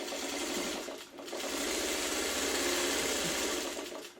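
A home sewing machine stitches quilt fabric, running as a steady, close whirring hum that dips briefly about a second in, then continues evenly to the end.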